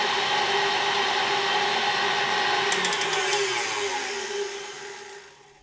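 A KitchenAid Artisan 5KSM175 stand mixer runs with a loud, steady motor whine, holding even for several seconds before winding down and fading at the end.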